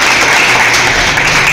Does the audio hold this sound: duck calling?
no